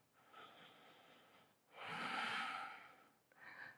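A deep, forceful breath during a fiery hatha yoga flow, held in a standing balance pose: a long loud exhale swells up and fades, framed by softer airy breaths before and after, close and alone without talk.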